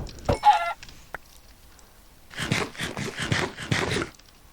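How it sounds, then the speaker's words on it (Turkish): Minecraft chicken clucks in short bursts, followed by a louder cluster of rapid bird-like calls, fairly faint overall with no speech. "tavuk ses çıkartıyor yine öldüremiyorum"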